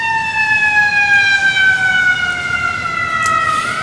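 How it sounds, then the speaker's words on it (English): An ambulance siren passes outdoors during a university commencement ceremony, a loud steady wail that slowly falls in pitch as the vehicle goes by, with no talk over it. "I'll let the ambulance go by here for a second."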